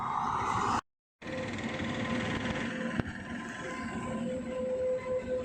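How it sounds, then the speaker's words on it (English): A train passes on a railway track beside a walking route, a steady broad rumble with a sustained tonal hum and one sharp clank, continuous after a brief dropout near the start. "This route is frequented by a lot of trains, and I'm going parallel to a railway track. So there are forever trains flying to and fro."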